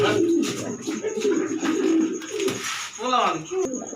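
Grizzle racing pigeons coo in a loft, with low, throaty calls rolling on and on close by, and someone talks over them throughout.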